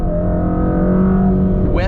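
A Mercedes-AMG GT Black Series sports car's engine drones loudly and steadily under acceleration, heard from inside the cabin, with a rising whine near the end.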